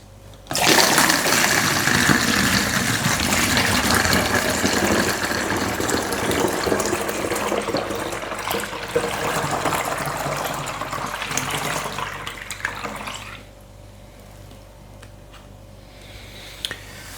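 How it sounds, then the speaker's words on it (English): Mead poured through a funnel makes a loud, steady gushing rush of liquid close up for about twelve seconds, then drops to a quieter trickle and background hum. "Funnel time. Just tip this in there."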